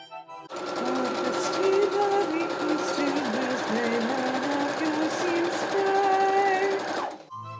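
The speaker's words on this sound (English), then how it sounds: "Then I sewed up the side seams using the same straight stitch and 5/8 inch seam allowance." A sewing machine runs a straight stitch along the side seams of an 18th-century linen-style shift, a steady close whirring hum that holds for about seven seconds with small shifts in speed.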